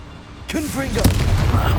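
Confringo blasting spell erupts in Hogwarts Legacy against poachers, a sudden loud blast that kicks in partway through and rolls into sustained booming rumble, with a voice heard over it.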